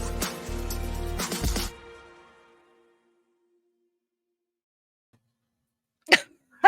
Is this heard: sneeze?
yes